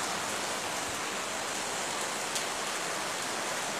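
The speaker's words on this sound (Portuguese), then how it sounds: "É isso, é muita chuva." Heavy rain pours onto a flooded street in the Rio de Janeiro metropolitan area, a dense steady hiss of water close by with no voices over it.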